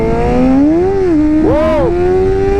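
A BMW M1000RR sportbike with a flashed ECU revs and accelerates hard, its loud engine howl rising and dipping in pitch across two quick bursts, close by and with no talk.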